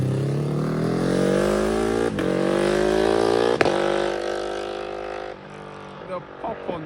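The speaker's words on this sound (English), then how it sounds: "The pop on the shift, he's obviously got a quick shifter." A motorcycle fitted with an Akrapovic exhaust and a quick shifter accelerates hard, its engine note climbing through the gears with sharp exhaust pops at each upshift. It is loud and close, with traffic noise around it.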